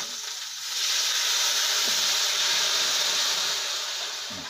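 Chilies stir-fry in a hot pan with a steady, loud, close sizzle and hiss that swells and holds for several seconds, faint stirring scrapes underneath.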